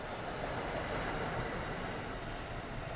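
A train rolls along the rails in the Train Sim World 2 game, a steady broadband rumble and rail noise that holds constant throughout.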